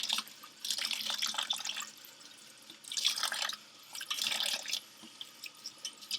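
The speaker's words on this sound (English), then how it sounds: "We're actually going to open them up, run them under a little cold water." Cold tap water runs over roasted chili peppers as they are opened and rinsed, splashing in uneven bursts that stop and restart, close and fairly soft.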